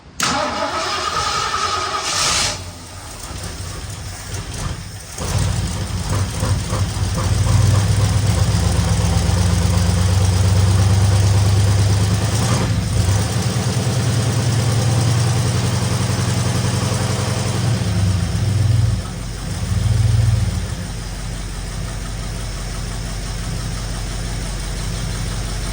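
A 1964 Ford Fairlane Thunderbolt clone cranking and firing up, then settling into a loud, rough idle with brief blips of the throttle, heard close and without voices.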